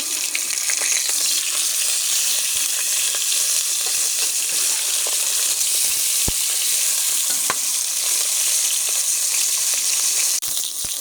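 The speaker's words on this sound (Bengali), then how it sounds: "এখন মাছগুলো আমি ভেজে নেব" Silver carp fish pieces frying in hot oil, a continuous close sizzle with occasional sharp pops and crackles, no voices.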